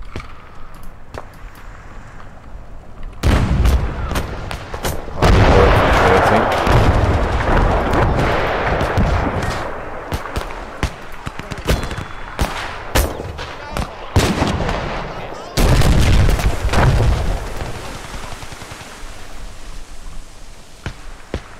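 Artillery guns firing in the World War II strategy game Gates of Hell, Finland campaign: heavy booming blasts in several separate salvos, loud and close, with rumbling decay and quieter gaps of battlefield noise between them.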